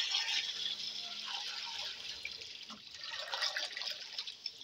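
Caged pet birds splash and flutter in a shallow water bath, giving a steady wash of soft, bright splashing and dripping that runs close and continuous throughout, with no voices.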